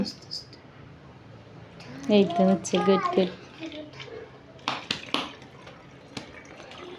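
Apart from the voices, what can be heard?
water being poured slowly from a filter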